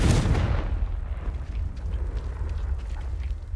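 A Confringo fire spell in Hogwarts Legacy bursts with a loud, close explosive boom at the start, then fades into a long, low rumbling crackle with no voices.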